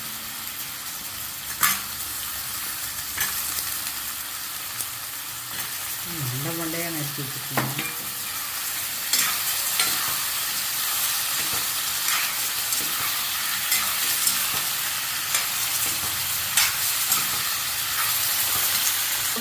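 Tomato and brinjal sizzle and fry in a hot pan, with occasional scraping stirs and clinks; a voice speaks briefly partway through.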